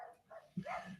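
Dogs barking next door, a couple of faint, muffled barks off in the distance with a brief louder yap, heard through a room during a conversation.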